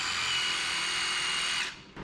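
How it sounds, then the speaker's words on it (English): Power drill boring a bolt hole in a cylinder head on a 1976 GMC, a steady high whine held close for nearly two seconds before it stops abruptly. "so we get to drill and tap it."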